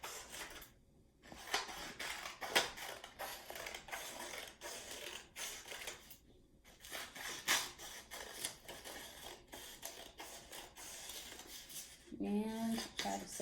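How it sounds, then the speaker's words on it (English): Scissors cutting red paper strips during a children's occupational therapy lesson, a series of close snips and crisp paper crunches in an irregular rhythm, with short pauses and a brief voice near the end. "now you're gonna take your scissors again and we're gonna cut on the line"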